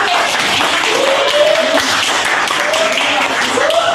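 Students clapping in a junior high school classroom at SMP Kartika VIII-1 in East Jakarta, a lively steady round of applause with a voice heard briefly over it.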